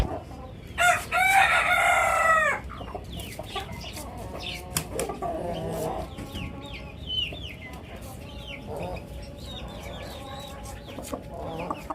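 A rooster gives one loud, close crow near the start, followed by scattered clucks and chicken calls from a farm flock, with light background noise and occasional voices.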